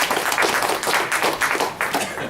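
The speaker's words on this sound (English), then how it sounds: "Please a round of applause for him." Audience applause greets the president of Carleton University at an academic event: dense, steady clapping from a crowd, fairly close and sustained throughout without speech.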